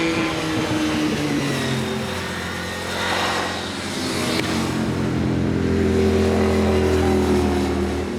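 Motorcycles lapping a race circuit at a track day, with engines droning steadily and swelling past at mid distance for the whole stretch, no talk over them.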